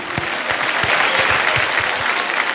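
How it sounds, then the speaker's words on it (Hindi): Audience at the IIFA 2023 awards show breaking into loud, continuous applause, dense clapping from a large crowd with a few distinct nearer claps standing out. "दोस्तों इनके लिए वो जोरदार तालियां।"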